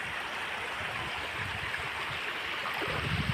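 Floodwater rushes through a flooded area that stands waist deep, a steady broad roar of flowing water without a break and no speech.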